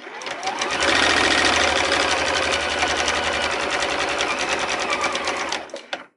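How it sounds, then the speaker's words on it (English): A sewing machine runs steadily for about five seconds, stitching through fabric with a loud, fast, even mechanical whir before slowing to a stop. "You can sew over your pins, just a little safer to take them out."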